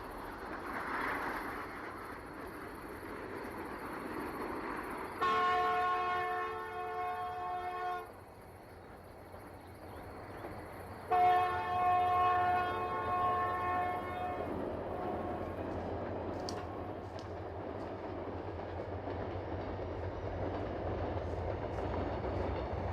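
A train on the Gyeongjeon railway line in South Gyeongsang Province passes a rural halt, sounding two sustained multi-tone horn blasts over a steady low rumble of rolling wagons, fairly near and loud.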